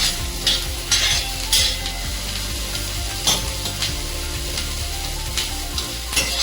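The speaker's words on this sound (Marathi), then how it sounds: "हे चांगलं भाजलं की याच्यामध्ये धने घालूया थोडे. चांगलं आपलं लाल होईपर्यंत भाजून घेऊया." Coriander seeds dry-roasting in a pan with grated coconut for a chicken curry paste, a steady sizzle broken by repeated loud scraping stirs, with no talk.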